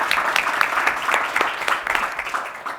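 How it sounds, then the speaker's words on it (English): A policy summit audience claps briefly, scattered sharp hand claps over a lighter patter that fades within a few seconds, with some faint voices in the room. "You can clap."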